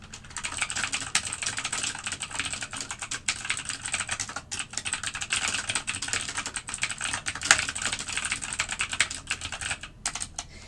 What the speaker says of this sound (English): that's why I'm typing a lot